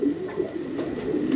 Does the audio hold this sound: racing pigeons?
yes